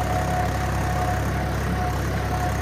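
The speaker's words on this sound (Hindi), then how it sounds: "हल्का 50 आरपीएम तोड़ के ट्रैक्टर चल रहा है" A Swaraj 855 4x4 tractor engine steadily drones under load while pulling an 11-tine cultivator through a field, a loud, continuous low rumble without pauses.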